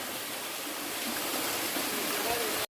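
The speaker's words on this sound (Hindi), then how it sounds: "यहाँ पे अभी एक छोटा सा झरना है" A small waterfall by a mountain road near Koloriang in Kurung Kumey gives off a steady, close broadband rush of falling water that holds constant before cutting off abruptly.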